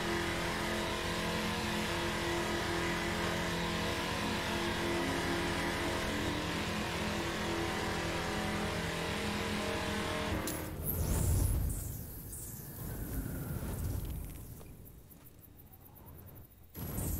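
A car engine in the video game The Crew drones at high revs for about ten seconds, then cuts to a rough, scraping rumble that fades.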